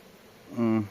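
A single honeybee at a forest apiary buzzes past close by, a brief rising drone lasting under half a second against a quiet background.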